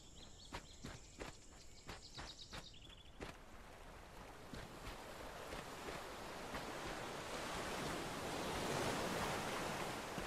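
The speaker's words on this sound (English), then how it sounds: "I like the sounds of the ocean when you get close" Ocean surf washing onto the shore in the online fantasy game Cycles of Aylorea, a broad steady hiss that swells louder over time, with a few footsteps and faint chimes early on.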